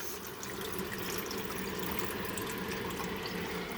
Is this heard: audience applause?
no